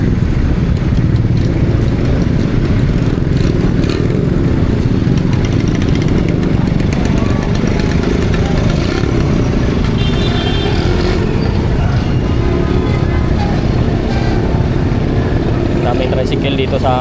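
Busy city street traffic near a market in Roxas, thick with motorized tricycles, makes a constant loud engine drone and rumble, with people talking underneath.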